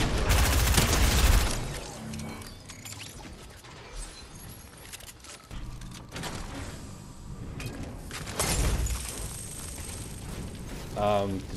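Fire attack thrown during a multiplayer video game fight: a loud whooshing burst opens, then crackling impacts and rumbling effects, with another burst late on.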